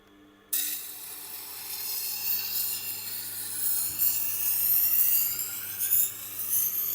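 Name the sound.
ceramic knife being sharpened on Tormek Tiger Stone 4000 grit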